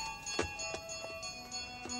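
A small bell is rung repeatedly indoors, giving several quick bright dings with sustained ringing overtones that linger between strikes, moderately faint and without speech.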